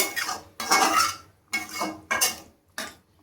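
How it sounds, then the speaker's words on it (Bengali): Masala chicken stirred in a pot with a utensil and covered with a lid, heard as several loud scraping and clattering bursts separated by short pauses, close by. "এবার আমি ভালোভাবে নাড়িয়ে এবার ঢেকে দেব।"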